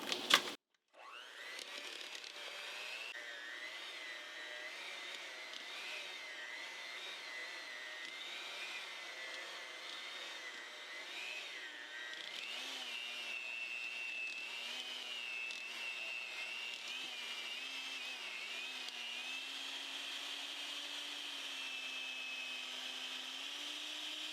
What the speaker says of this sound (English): So now I will take my hand mixer and start mixing.